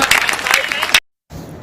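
Audience applause for a general-competition quiz lesson comes as a short burst of brisk clapping that cuts off abruptly into silence after about a second, followed by a quieter room sound.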